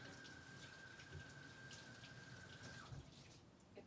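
Water runs steadily from a kitchen tap as lettuce is rinsed under it, a faint continuous splashing with a few soft knocks and no talking.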